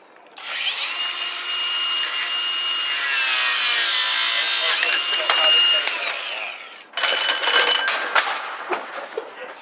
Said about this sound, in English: they are no match for the locksmith and his power tools